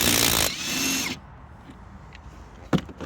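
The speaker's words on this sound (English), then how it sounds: "Grab a 13 millimeter and pull this." A 13 mm socket wrench loosening a bolt on a Club Car Precedent golf cart: a loud burst of metallic ratcheting and grinding up close, then quieter mechanical fiddling with a sharp clank near the end.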